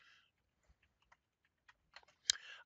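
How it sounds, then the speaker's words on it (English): Keys on a computer keyboard are struck in sparse, scattered taps with a brief burst of faster typing near the end, close and fairly quiet, with no talking. "I actually like typing my citations by hand like this rather than using a computer program"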